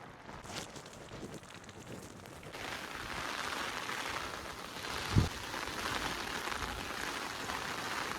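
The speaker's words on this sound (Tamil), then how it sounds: "நம்ம ஏரியாவில் பார்த்தீங்கன்னா சரியான மழைங்க." Heavy rain pours down steadily around a home in a wooded area, a continuous dense hiss that grows fuller and louder after the first couple of seconds, with one brief sharp knock partway through.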